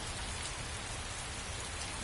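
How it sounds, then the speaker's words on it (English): Steady rain pours down in the video game Heavy Rain, a dense, even hiss of drops hitting surfaces with a low rumble beneath, continuous throughout and fairly close. "It's raining."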